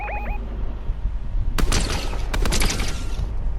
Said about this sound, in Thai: ได้ยินเสียงปืนแถวนู้นน่ะ